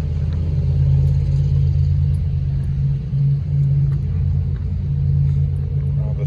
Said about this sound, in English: You might hear some loud cars and trucks because there was a car show